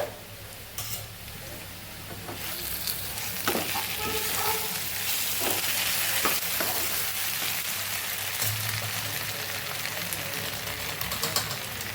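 A potato mixture with peanuts and turmeric sizzles steadily in a pan while a spoon stirs and scrapes, with sporadic clinks over the continuous frying hiss.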